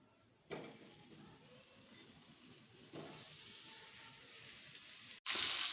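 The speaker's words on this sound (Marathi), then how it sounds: "इकडे आपण दोडका भाजून घेत आहोत" Ridge gourd roasts in hot oil in a pan with a soft, steady sizzle, quiet and close, rising slightly partway through before a louder burst of hiss at the end.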